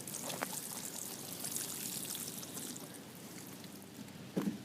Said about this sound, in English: Now as we water, it'll settle all that soil down amongst those roots.